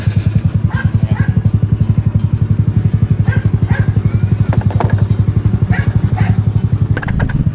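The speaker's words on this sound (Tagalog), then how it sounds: "Try natin ulit i-jump." Motorcycle being jump-started after a starter relay problem, the engine running with a fast, steady low putter, close and fairly loud, with faint higher clanks and chirps occasionally over it.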